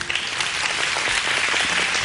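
Studio audience on a talk show bursting into applause, a dense, sustained clatter of many hands at close range with no talk over it.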